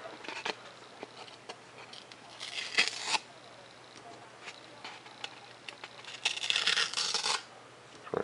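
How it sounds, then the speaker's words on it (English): Blue masking tape peeling off a foam drone airframe: several short, close ripping bursts, strongest around the middle and again near the end, separated by small clicks and handling noises, with no voices. "let's go ahead and pull this blue tape off here"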